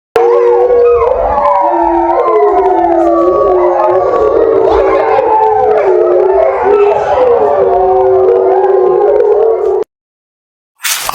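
Several wolves howl together outdoors in long, overlapping, wavering cries, loud and close, for about ten seconds before cutting off abruptly.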